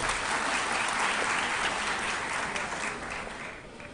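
An audience at a documentary gala premiere claps steadily as a university rector is welcomed to the stage, the applause tapering off near the end.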